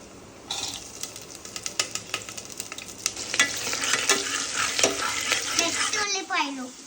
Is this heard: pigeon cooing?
no